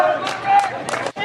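Crowd at a youth lacrosse game reacting with loud, surging shouts and cheers, rising and falling in bursts over a short stretch, with a commentator's voice mixed in.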